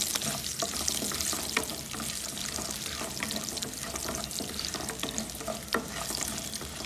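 Ginger and curry leaves fry on a low flame as a spatula stirs and scrapes continually through a steady close sizzle, with irregular louder strokes.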